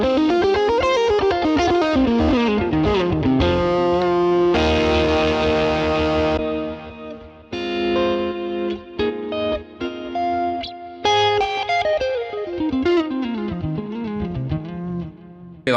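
Electric guitar driven through a Tube Screamer overdrive pedal plays loud, sustained chords and ringing arpeggios with a warm, gritty edge, with a few brief pauses between phrases.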